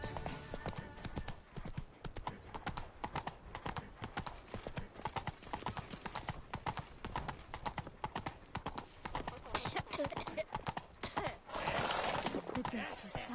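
Horse hooves clip-clopping in The Witcher video game, a steady close rhythm of hoof beats that runs throughout, with a faint rising swell of noise near the end.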